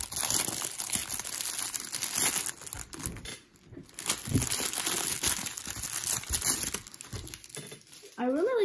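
Plastic Beyblade packaging for Gilded Nemesis is torn open and crumpled, a close, loud, continuous crinkling and rustling that runs nearly the whole time with a brief lull midway.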